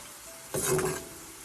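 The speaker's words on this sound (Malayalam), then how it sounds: "ഇതിങ്ങനെ നമ്മൾ നന്നായിട്ട് ഇതിനെ വറുത്തെടുക്കണം." Boondi fry in hot oil for motichoor ladoo: a quiet background hiss swells into a short burst of sizzling with a light stir of a ladle, then settles back, with no voices.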